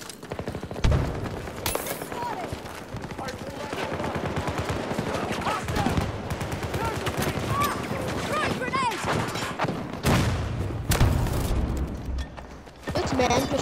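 Gunfire in the shooter game Battlefield 2042, with dense crackling bursts of rifle fire, booming sniper shots and explosions. The shots pile up through the whole stretch while players talk over the battle.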